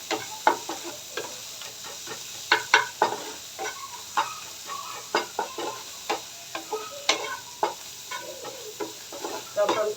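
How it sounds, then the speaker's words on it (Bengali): Chopped raw onion frying with egg in a pan for a pointed gourd and egg mash, a steady sizzle broken by frequent sharp clicks and scrapes of stirring, close and alone. "এরপরে আমি দিয়ে দিব একটু কাঁচা কুচি করা পেঁয়াজ, এটার সাথে ভেজে নিব ডিমটার সাথে"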